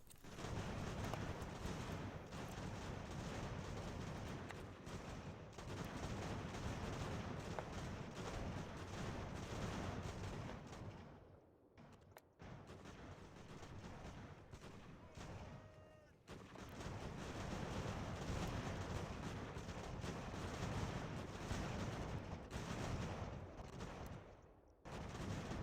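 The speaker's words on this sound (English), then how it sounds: "didn't realize we had damn Germans firing at us" Gunfire from German troops in the Ultimate General: American Revolution game, a dense continuous crackle of musket volleys and booms at moderate distance, with two brief lulls midway.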